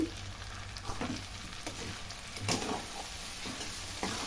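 Chicken mixed with salt fries in a pan with a soft, steady sizzle, punctuated by occasional spatula scrapes and taps, quiet and close with no speech.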